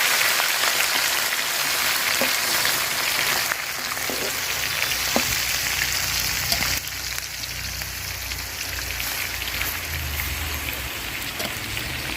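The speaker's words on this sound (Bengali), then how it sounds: "তো আমার পাতিলের তেল গরম হয়ে গেছে, এখন আমি মাংসগুলা দিয়ে দিব।" Chicken pieces fry in hot oil in a pot, giving a dense, continuous loud sizzle with occasional pops and slight shifts in intensity throughout, with no talk.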